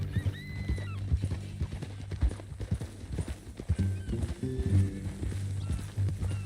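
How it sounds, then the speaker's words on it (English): Hooves of a horse clip-clop at a steady walking rhythm in the video game Red Dead Redemption 2, close and clear, with occasional snorts and a quiet voice in the background. "That a new horse?"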